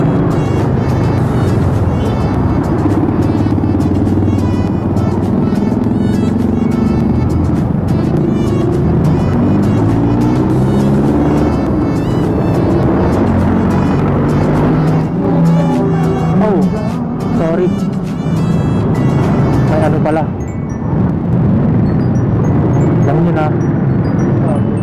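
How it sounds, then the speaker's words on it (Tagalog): Sunday road traffic near SM Sukat, recorded from a moving motorcycle, a loud continuous engine drone with shifting pitch and vehicles passing close by. "Pero ayun, traffic pa rin."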